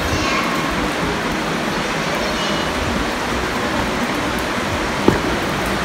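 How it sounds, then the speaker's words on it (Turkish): Light rain begins falling outdoors in Hatay, Turkey, a steady, even hiss that runs throughout, with one brief tap near the end. "Hafiften de hava yağmur başladı."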